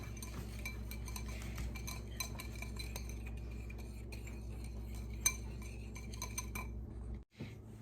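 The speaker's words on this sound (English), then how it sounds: "So I'm gonna whisk." Dry ingredients for protein cinnamon rolls are whisked in a bowl, a quiet continuous scraping with rapid faint clinks of the whisk against the sides, ending in a brief pause.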